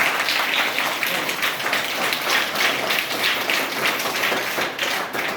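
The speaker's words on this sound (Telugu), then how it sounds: "పిల్లలు మీరు చప్పట్లు కలిగేస్తున్నారు" Children applauding at a primary school anniversary celebration, a loud sustained burst of many hands clapping together, dense and continuous for several seconds with no speech over it.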